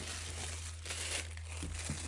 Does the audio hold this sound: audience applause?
no